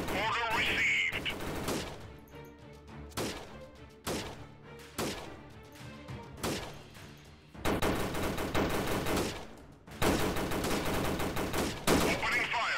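Repeated bursts of automatic gunfire and single shots crackle through a guerrilla warfare video game battle, coming in loud clustered volleys with short gaps between them and no talk over the firing.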